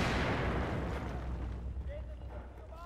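AK rifle gunfire in the Battlefield 4 video game: a loud opening burst that decays into a rumbling wash of distant shots, with players talking over it.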